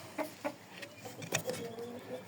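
A young cockerel chick of the Mayskiy breed gives a few soft, quick clucks and peeps, close and fairly faint, in a quiet setting.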